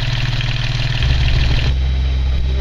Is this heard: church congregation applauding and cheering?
no